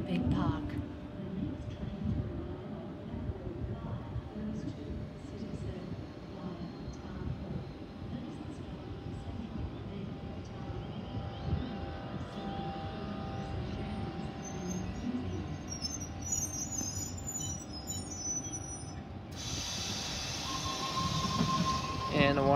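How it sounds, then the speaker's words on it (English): A Sydney Waratah electric train pulls into a platform with a loud, steady rumble and clatter of wheels and a faint squeal. A station chime sounds near the end, and a voice speaks partway through. "And a Waratah arriving at platform number 3"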